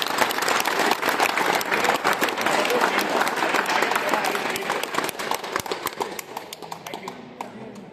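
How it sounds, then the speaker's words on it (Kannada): Loud, sustained applause from a crowd at the prize-giving ceremony of the Cherry Cup tournament: dense clapping that holds steady for several seconds and then thins out toward the end. "ಅವ್ರಿಗೆಲ್ಲ ಒಂದು ಜೋರಾದ ಚಪ್ಪಾಳೆ"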